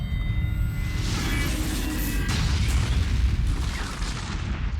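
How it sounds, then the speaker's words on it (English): A dense, continuous roar of rumbling booms and blasts, loud and sustained throughout, a rapid chain of explosions in a Captain America video game. "And creating a huge chain of explosions."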